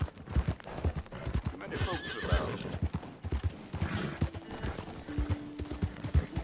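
Horse hooves clip-clopping in a rapid rhythm in Red Dead Redemption 2 in falling rain, with a neigh partway through, heard at moderate volume with faint game sounds around it.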